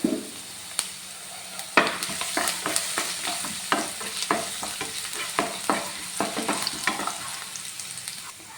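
Ginger and garlic sauté in hot oil with fennel, sizzling steadily while a spoon scrapes and stirs the pan in repeated sharp strokes, close and clear with no talking.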